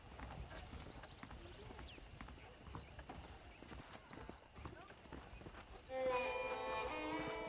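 Rhythmic clip-clop of saddled horse hooves at a steady walking pace in the video game Red Dead, with a voice talking over it and music swelling near the end.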